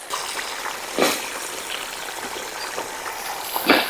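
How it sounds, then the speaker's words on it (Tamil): Duck curry gravy boiling in a pot, a steady close bubbling with occasional louder pops and splutters, heard alone without talking. "நல்லா கொதிப்பில் வெந்து கொண்டிருக்கி"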